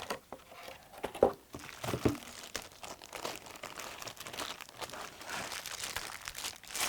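Bubble wrap and plastic packaging around a Hansung GK898B OfficeMaster keyboard crinkles and rustles close up, with irregular crunchy bursts and scattered pops throughout, and no voices.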